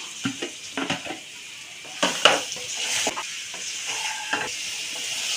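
Chillies with turmeric and salt fry lightly in a pan for a raw mango chutney, a soft sizzle under a few scrapes and clinks of a spoon against the metal, close by and without voices.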